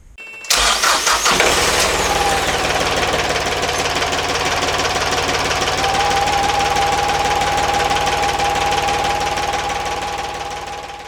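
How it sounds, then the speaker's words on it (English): A narrowboat's diesel engine cranks and catches, then settles into a steady, loud rumbling idle with a faint whine running through it. "but I think I could run the engine"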